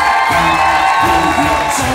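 A game show studio audience cheers and whoops loudly and continuously, with chanting-like voices rising and falling close by throughout.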